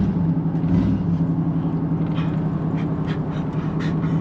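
A broken-down 2013 Chevrolet Silverado truck runs with a loud, low, throbbing engine drone, close and continuous, with a few faint knocks and clatters over the top and no talking.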